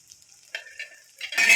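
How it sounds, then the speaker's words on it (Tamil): Spice powders (chilli powder, garam masala, turmeric and coriander powder) are stirred into a green gram kurma in a hot pan. A soft scraping sizzle builds to a louder fry at the end, close and brief. "இதை நல்லா கிளறி விட்டுக்கலாம்."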